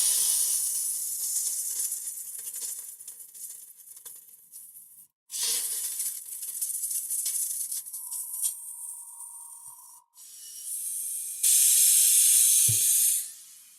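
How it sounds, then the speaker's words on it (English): An airbrush being flushed of orange wash, giving hissing bursts of spray separated by brief silences, with a louder final blast near the end and no talking. "Just make sure that first I remove all the orange wash from the airbrush."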